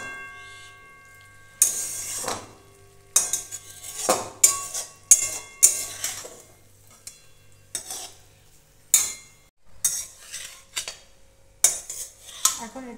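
Cooked vegetable curry of yardlong beans, eggplant and potato is spooned from a pot into a dish, with a series of sharp metal spoon scrapes and clinks against cookware, irregular and close, in an otherwise quiet kitchen.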